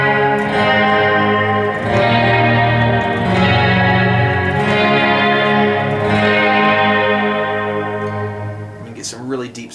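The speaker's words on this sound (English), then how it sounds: "You can get chorus-like effects too, +10 cents on this one, -10 cents over here." Guitar played through a Strymon BigSky pitch-shifted reverb set to a chorus-like detune, plus and minus ten cents, with struck chords ringing out in a shimmering, wavering wash and long sustained tails.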